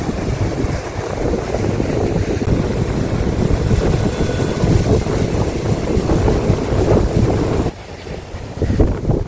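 Sea waves roll in along Digha beach, a continuous washing roar heavily overlaid by blustery wind buffeting the microphone, with a brief dip near the end.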